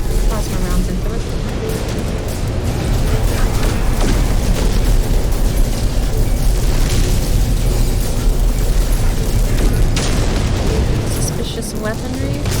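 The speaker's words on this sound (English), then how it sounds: "I start plowing plasma rounds into it" Plasma rounds pound a ship in a space video game, a dense, continuous barrage of booming bursts and explosions that stays loud and steady throughout, with game noise layered over it.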